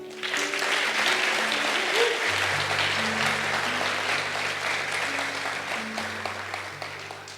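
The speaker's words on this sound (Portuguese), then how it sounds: "Dá um aplauso aí a ele." A conference audience applauds, a broad sustained roar of many people clapping that fills the hall, with held musical tones running beneath it throughout.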